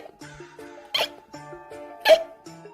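A storyteller voices two sharp imitated hiccups, one near the one-second mark and another just after two seconds, rising above a soft musical background in a children's tale about a skeleton with hiccups.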